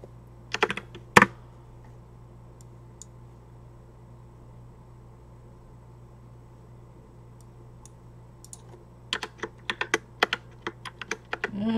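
Keys clatter on a computer keyboard in short bursts, a quick cluster at the start, then a quiet stretch before a faster run of typing near the end, close and fairly faint.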